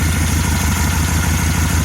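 A 1974 VW Beetle engine idling with the cylinder 4 spark plug wire pulled, a steady, continuous low rumble with an even, slightly uneven pulse, close and alone with no voices.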